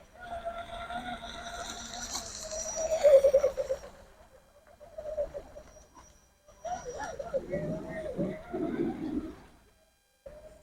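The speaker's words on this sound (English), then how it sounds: "Get these birds out of the way." Pigeons or doves cooing beside a pond where an RC hydroplane boat is being run, soft repeated coos in several bouts with brief pauses, fairly close and moderately quiet.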